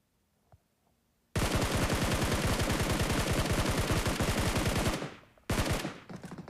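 Loud automatic gunfire in the BGMI battle royale video game: a long, rapid, evenly spaced burst of shots lasting several seconds, a brief pause, then another short burst.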